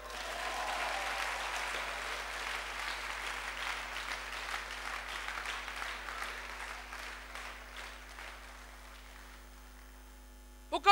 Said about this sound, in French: Ah, acclamons-le.